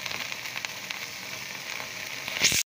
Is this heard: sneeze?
no